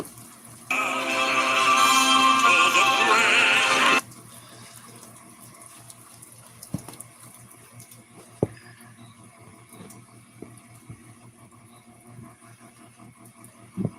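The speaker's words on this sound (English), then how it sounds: "it's raining cats and dogs" Heavy rain pouring down in a sudden loud, dense rush that lasts about three seconds, then drops away to a quiet background with a few faint taps and knocks.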